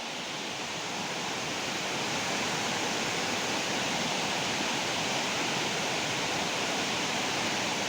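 Steady, loud roar of a flooded river surging through its channel, a dense broadband torrent that holds constant throughout with no voices.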